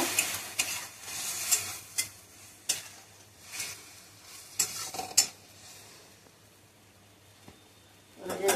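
Spice paste with turmeric and salt stir-fried in a pan for a bottle gourd curry, soft scraping strokes at an uneven rhythm over a low, quiet sizzle, close and fairly faint.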